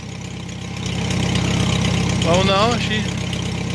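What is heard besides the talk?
Farmall H tractor engine idling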